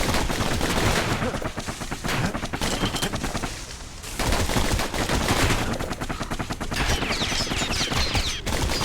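Pincushion enemies in the Bastion video game fire rapid, dense volleys of shots that rattle almost continuously, loud and close, with a short lull in the middle before the barrage resumes.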